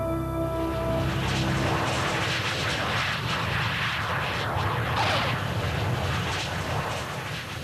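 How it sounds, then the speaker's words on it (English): A Tutor two-seater military jet trainer roars steadily and loudly, holding a continuous engine drone that fills the whole stretch without pause. "Learning to fly a military jet involves 100 hours in the Tutor, a nimble 2-seater"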